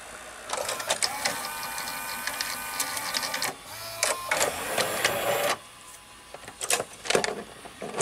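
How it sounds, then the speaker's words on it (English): Mechanical whirring and clicking in several bursts as the cassette carriage of a Toshiba V-M41C Beta VCR loads and moves, with brief pauses between the motor runs. "the cassette carriage mechanisms sound quite similar to the Toshiba VHS VCR"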